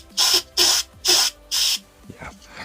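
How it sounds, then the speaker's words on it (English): An aerosol can sprays mist in four short, even hissing bursts, each about a quarter second long, loud and close, followed by a quiet pause with small handling sounds. "using the aerosol, you see that? See how the mist is literally just catching the light and spreading it?"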